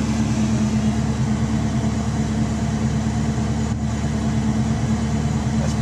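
A Pro M EFI fuel-injected car engine idles steadily with the air conditioning running on full, giving a continuous low hum close by with no talk.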